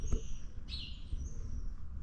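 Small birds chirp outdoors on a farm: a few faint, high, brief calls over a low, steady rumble, with no talking.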